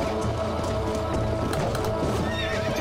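Shadow, a horse in the Red Dead Redemption video game, whinnies several times over steady hoof clip-clops and a constant game soundscape, loud and close.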